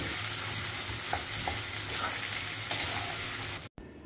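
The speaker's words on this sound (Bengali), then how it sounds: "আগে থেকে যে আলুটা আমি সেদ্ধ করে রেখেছিলাম সেই আলুটা দিয়ে এবার ভালো করে মশলাগুলো কষিয়ে নেব" Boiled potato and spices are stir-fried in a wok for a vada pav filling, giving a steady close sizzle with occasional scraping stirs. It runs without voices and cuts out briefly near the end.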